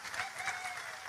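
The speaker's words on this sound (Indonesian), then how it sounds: "Tepuk tangan untuk bupati kita." Brief, quiet applause from a gathered audience at a religious sermon during Ramadan, a soft blur of clapping heard at a distance for about a second.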